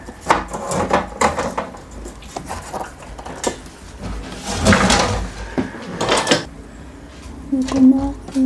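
Wooden door being fitted back into place, a run of knocks, scrapes and thuds with a heavier bump midway and a final clunk, close by, with a person talking in between.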